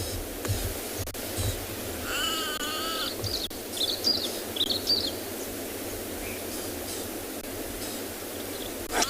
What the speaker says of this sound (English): Was a grey go-away bird. It was making a lot of noises